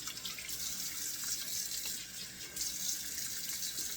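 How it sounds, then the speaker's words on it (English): Tap water runs steadily into a bathroom sink with hands splashing cold water during a wet shave using bay rum soap and an alum block, a continuous close hiss with small surges and no talking. "So let's do 2 splashes of cold water and put some alum on."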